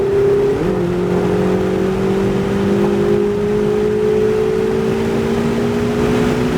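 A Lamborghini Huracan accelerates hard on a track, its engine note climbing steadily in pitch as the revs build. The loud, continuous roar runs unbroken and close, with no talk over it.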